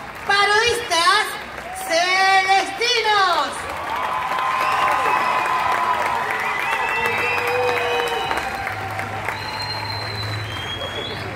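An audience claps and cheers for a troupe of parodistas, the Celestinos from Loma del Quinoto, a steady dense roar of applause with whoops, following a presenter's loud announcement over music.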